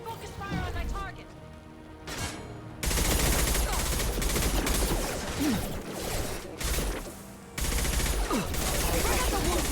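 Rapid bursts of gunfire and fusillades in the Mass Effect Legendary Edition video game, loud and dense, with whooshes and impacts, broken by short lulls, while voices talk over the combat.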